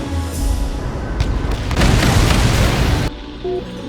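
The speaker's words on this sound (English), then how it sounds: "Huntsman 1, the bomb's away." A bomb dropped from an aircraft strikes its ground target with a loud, close blast, then a rumbling roar that lasts about three seconds before cutting away to quieter background.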